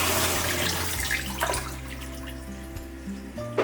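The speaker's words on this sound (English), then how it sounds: "Press the flush button on the remote to check the flushing power and ensure everything is working correctly." A HOROW T39 smart bidet toilet flushing, a steady close rush of water with a low hum underneath, gurgling on throughout before tapering slightly.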